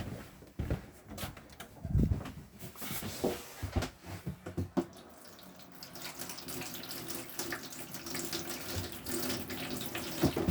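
Caravan taps on a 2013 Elddis Avante 574 run to purge air from the water system, sputtering and spitting unevenly at first, then settling into a steady close rushing flow.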